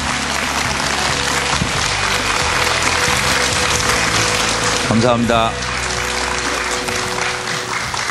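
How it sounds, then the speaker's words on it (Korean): An audience at a Korean doctors' talk concert applauds to welcome two visiting clinic directors, steady clapping filling the room while a voice speaks briefly over it partway through. "큰 박수로 맞아주시면"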